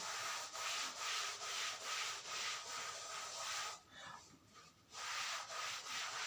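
Repeated back-and-forth rubbing strokes as writing is wiped off a board during a physics class, a steady rhythmic scrubbing close by that pauses briefly near the end before resuming, with no talk.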